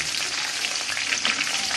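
Spiced, crumb-coated chicken drumsticks frying in a pan, giving a loud, dense, continuous sizzle with steady crackle throughout and no voices.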